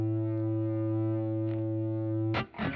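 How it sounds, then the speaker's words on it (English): An electric guitar through amp distortion on a Line 6 Helix, a sustained heavily distorted chord ringing steadily, then choked off by a brief noisy strum at the end. "So let's get some distortion on the amp."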